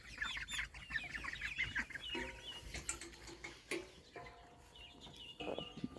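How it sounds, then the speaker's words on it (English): Chickens roosting in a coop on a homestead, clucking and cackling in scattered bursts close by, with faint rattling in between and no talk. "we've got these chickens in here"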